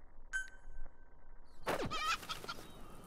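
Chicken hat in Metal Gear Solid V: The Phantom Pain gives a short burst of rooster-like clucking and squawking, loud and close, after a brief electronic tone.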